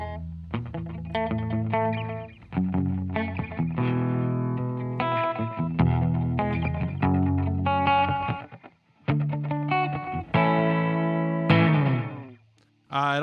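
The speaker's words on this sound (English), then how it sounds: "It honestly is like you take delays and it's creating a reverb effect through the delays of that sound." A guitar played through a BigSky reverb pedal on its Magneto setting, a delay-based reverb, with distorted chords and notes trailing into repeating echoes and stopping abruptly in short gaps.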